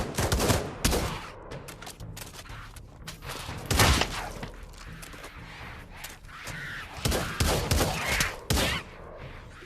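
Video game gunfire in Pavlov VR zombies mode: loud, close bursts of rapid shots and single heavy blasts come in irregular clusters, with brief quieter gaps between volleys.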